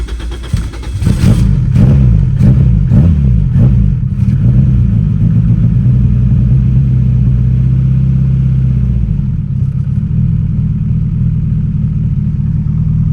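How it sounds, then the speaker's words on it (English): A Honda car engine cranks over with a rapid series of starter clatters, fires up loud and close, then settles into a steady, rumbling idle that continues alone. "the car still starts, everything's been fixed, and I'll give you guys the first start right here"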